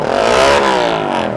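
A motorcycle revs and passes close by in traffic in Santa Rosa, a short loud rising engine whine with rapid sweeping harmonics that fades slightly toward the end.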